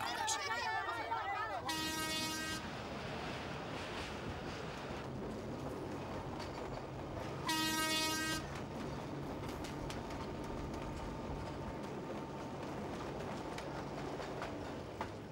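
A train from Dire Dawa, Ethiopia, rolls along with steady rumbling and rattling, interrupted twice by a loud blaring horn, with voices chattering in the background.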